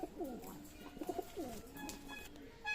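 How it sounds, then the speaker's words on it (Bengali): A male pigeon with a crest coos close by in quick rolling bursts, softly recorded, with a little faint talk in the background. "এটা হচ্ছে নর কবুতর"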